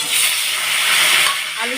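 Diced potato cubes fry in hot oil with cumin seeds in a wok, producing a loud, close, continuous hissing sizzle throughout.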